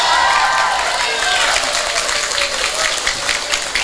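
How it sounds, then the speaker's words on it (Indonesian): A crowd claps loudly and steadily throughout at a religious lecture for a Nuzulul Qur'an commemoration, with a murmur of voices mixed into the dense applause. "Ya tepuk tangan pancene koclok."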